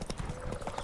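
A horse's hooves clip-clop in a video game. The clip is a brief, quick run of close hoof knocks with some faint voice underneath.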